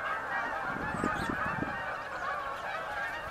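Agitated flock of geese honking in an outdoor setting: several quick nasal honks cluster in the middle, over a dense bed of chattering and calling birds, fairly close and with no talking.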